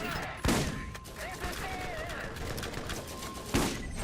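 Gunfire from an automated turret in the video game Borderlands, with two loud bursts a few seconds apart over game noise, while a player talks in between.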